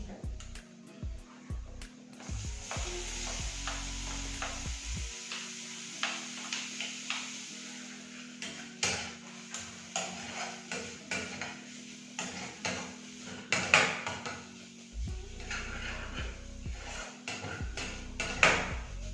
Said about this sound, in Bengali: এখানে আমি অ্যাড করে দিচ্ছি চপড অনিয়ন।